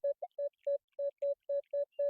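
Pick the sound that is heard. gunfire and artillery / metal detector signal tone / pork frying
metal detector signal tone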